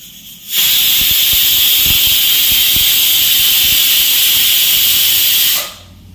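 Steam hisses loudly and steadily from a pot of rice on the stove, a continuous close jet lasting about five seconds with faint knocks beneath, starting and stopping abruptly.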